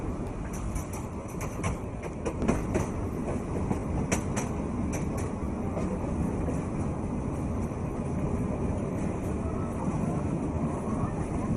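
A train rumbles along steadily, a continuous loud roar with a few faint rattling clicks early on, heard from inside the carriage.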